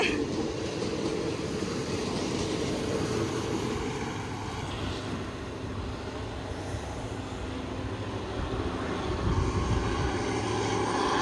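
A crowded passenger train, number 112, rumbles past Chiang Rak station at moderate speed, steady from start to finish, a broad continuous roar of engine and wheels with no talking.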